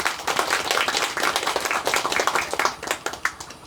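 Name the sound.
audience applause for the deputy county head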